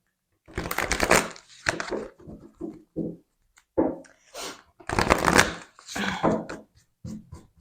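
Oracle cards from a sacred traveler deck are shuffled by hand in a series of quick, crisp riffling bursts with short pauses between, close and fairly loud, with no talking.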